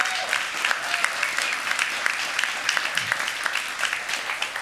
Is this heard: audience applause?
yes